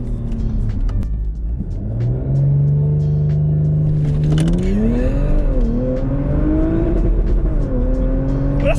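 Audi RS4 fitted with a new exhaust accelerating hard on a road, its loud engine note climbing steadily through the gears with deep rumble and rising pitch, heard close from inside the car.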